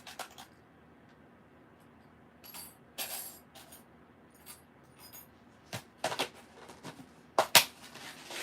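Guggenheim pinking shears clicking in a quiet room, a scattering of sharp, brief snips and clicks, some faint and some louder, irregularly spaced with a cluster of stronger clicks near the end.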